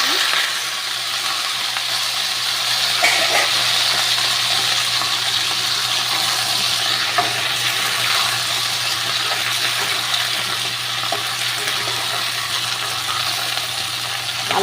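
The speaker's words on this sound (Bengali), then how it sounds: "আমি এবার আলু আর ভেন্ডিগুলোকে দিয়ে দিচ্ছি।" Potatoes and okra dropped into a hot pan sizzle with a steady, moderately loud hiss and faint crackles throughout, with no talking.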